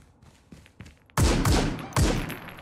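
Gunfire in the tactical shooter game Ground Branch: a few faint distant pops, then two loud close shots about a second apart, each with a short trailing echo.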